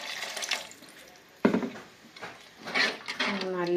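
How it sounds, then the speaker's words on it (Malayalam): Water poured into a pot of tomato sambar for four people, a short splashing rush with clinks of the pot and utensils, close by. "കുറച്ചും കൂടി വെള്ളം ഒഴിക്കാം."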